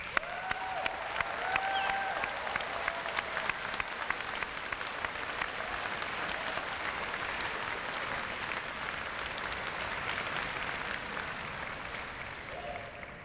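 Graduates at a university convocation ceremony receive a long round of applause from a large seated crowd, dense even clapping filling the hall, with faint tonal sounds early on.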